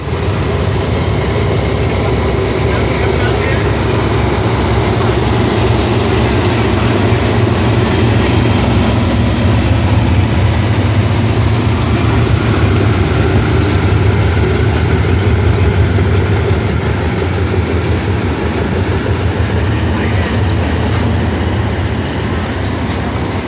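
A GEA diesel locomotive's engine rumbles loudly and steadily as it accelerates, a dense low drone with rising intensity and mechanical clatter throughout.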